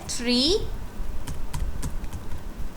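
Code being typed on a computer keyboard during an R programming lesson, a few sparse key taps after a short vocal sound, over a steady background hiss.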